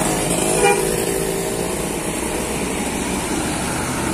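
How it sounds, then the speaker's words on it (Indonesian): Mitra Dewan tour bus passing in busy traffic, a steady loud engine rumble with a short horn toot near the start and ongoing road noise. "Melintas kembali bus Mitra Dewan."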